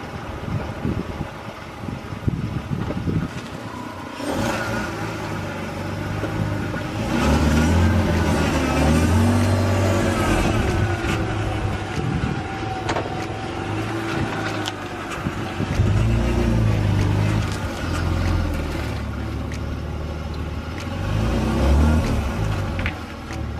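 A BMW E46 330i with hubcentric wheel spacers revs hard while drifting, its engine droning and surging steadily for the whole stretch with no talk, some wind noise mixed in.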